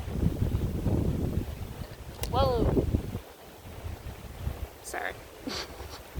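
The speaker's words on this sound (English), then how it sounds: "The wind is really like not playing." Wind buffets an outdoor microphone with low rumbling gusts, strongest in the first few seconds, while a person talks over it.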